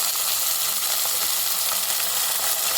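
Pieces of sweet cucumber go into a pan of hot oil for a mixed vegetable pulusu, a dense, even sizzle that stays loud and close throughout.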